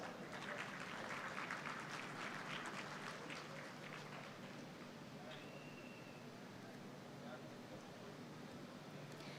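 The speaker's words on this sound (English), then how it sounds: "Dear audience, please a round of applause." Audience applause at an international conference on world religions, a steady wash of clapping that holds evenly throughout and sounds moderately distant and fairly faint.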